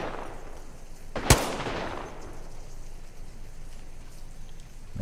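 Gunfire from a distant fight in Apex Legends, a single sharp shot cracking out of a low ambient rumble and trailing off into a faint echoing tail.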